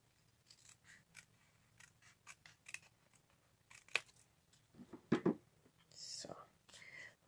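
Scissors snip through craft card along a scored line while making an Easter treat box, a string of short crisp cuts with a louder cluster near the end, close and quiet, with soft whispery noise between cuts.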